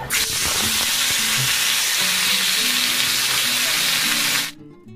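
Pieces of meat, potatoes and spices fry in a home kitchen pan with a loud, steady, close sizzle that runs unbroken and then cuts off near the end.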